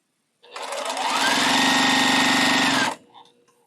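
A TL 2010 sewing machine stitches a quilt block in one loud, steady, continuous run of about two and a half seconds, with a rising whir at the start and an abrupt stop.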